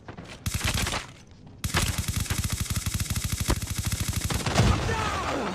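Rapid automatic gunfire in the mobile shooter game Call of Duty Mobile, loud sustained bursts with a brief pause, then a long steady stream of shots under a faint voice.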